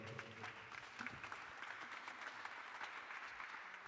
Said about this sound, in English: Can y'all give this panelist a round of applause?